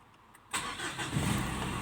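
A Mitsubishi Triton with a DI-D 4D56 common rail diesel engine cranks briefly and fires, then settles into a loud, steady idle close by, with no talking.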